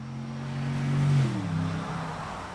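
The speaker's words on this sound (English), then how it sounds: "Truck. F-150." A Ford F-150 pickup truck drives past at a speedway, its engine tone swelling as it nears and then dropping in pitch as it moves away, steady and moderately loud with no voices.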